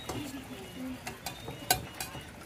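Tilapia with lemongrass being stirred in a pan, giving short scraping and clinking strokes over a faint sizzle, close and fairly quiet.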